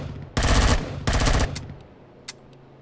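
Gunfire in the Empyrion Galactic Survival space game, two loud close bursts of rapid automatic fire a moment apart, then a few isolated shots fading into quiet.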